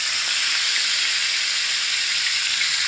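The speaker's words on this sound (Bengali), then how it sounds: "মাছটা ভালোভাবে ভেজে নিচ্ছি" Pieces of rui fish frying in oil in a pan on a gas stove for a Bengali rui posto dish, giving a loud, continuous, even sizzle with no talking.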